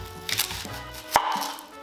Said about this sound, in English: I will not cry chopping this onion.